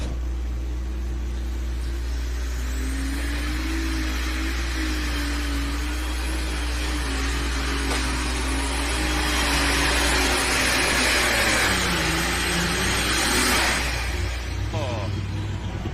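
An open Superstock class pulling tractor, running on alcohol or diesel, roars continuously at a championship tractor pull, a loud sustained engine drone with shifting pitch as it strains down the track, with an announcer talking over it.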